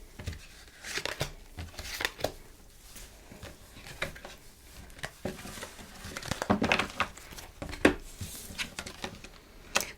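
Tarot cards being shuffled and drawn during a reading, irregular soft riffles, slaps and papery flicks, close and fairly quiet, with no talk.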